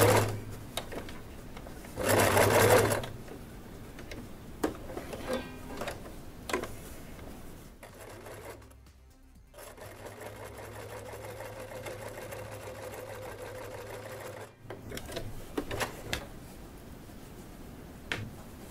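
A sewing machine stitches fabric in short bursts of rapid mechanical whirring, stopping and restarting, with clicks and handling sounds between runs, close and fairly quiet.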